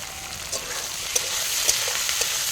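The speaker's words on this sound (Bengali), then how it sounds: "বাঁধাকপিটা আমি নেড়ে চেড়ে নেব সামান্য লবণ দিয়ে দেবো" Cabbage frying with garlic in a pan as it is stirred, a steady close sizzle with light scraping clicks from the stirring spoon and no voice.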